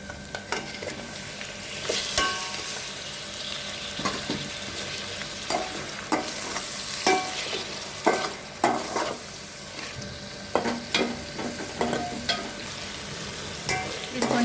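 Tomatoes fry in a pan for Guntur gongura pulav, a continuous soft sizzle broken by repeated scraping stirs and light clicks of a spoon against the pan, with no talking.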